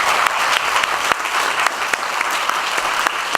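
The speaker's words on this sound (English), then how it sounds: "Could you put your hand together and give them some applause?" Clapping from a conference audience at an awards ceremony fills the room, steady and loud with scattered sharp individual claps standing out, continuing throughout without a voice over it.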